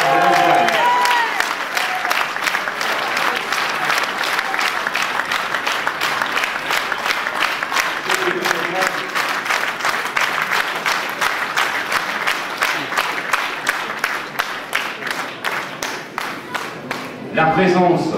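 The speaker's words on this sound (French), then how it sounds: "Pour partager ces applaudissements" Sustained applause from a campaign crowd at a cantonal and municipal election rally in Poissy, dense steady clapping filling the whole stretch, with a few voices rising near the start and end.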